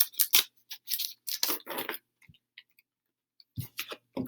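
Pack of glow-in-the-dark terrarium stickers being opened, with crisp plastic crinkling and tearing in several short bursts, a quiet pause, then more rustling up close.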